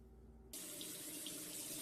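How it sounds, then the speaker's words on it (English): A bathroom faucet suddenly turns on and water runs steadily into the sink, a constant close hiss after a brief quiet moment. "The water ran in the sink."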